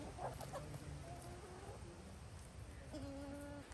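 A rooster and chickens cluck in short, scattered calls at a backyard flock, quiet and somewhat distant over a steady background hiss.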